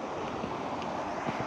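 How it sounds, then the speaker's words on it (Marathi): A river swollen by heavy rainfall rushes past in a steady, broad roar of moving water, brief and unbroken, with no voices. "या नदीला बघा पाणी कसं आलेलं आहे मित्रांनो"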